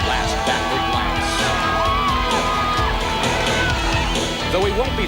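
A dense crowd roars and cheers along the finish stretch of the 1993 Ironman Hawaii triathlon, with yells and whoops rising out of a steady, loud wall of noise that fills the whole clip.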